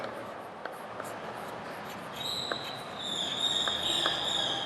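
Chalk or pen writing out a geometry theorem statement on a board, faint scratchy strokes with soft taps, growing slightly louder and denser toward the end.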